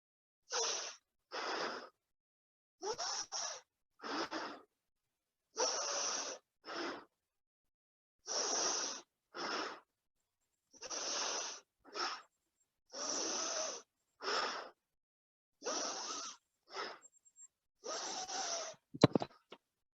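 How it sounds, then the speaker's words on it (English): Slow, deep breaths repeat close to the mic in a steady rhythm, each a full airy inhale followed by a longer, extended hissing exhale, with brief silences between and no talking. "moving back into the full, complete inhale, deep, extended exhale"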